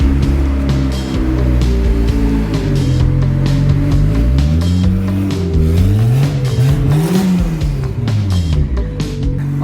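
A loud car engine, a big-turbo 2JZ swapped into an MK3 Supra, fires up and revs repeatedly, pitch sweeping up and down in aggressive bursts, close by and dominating the scene.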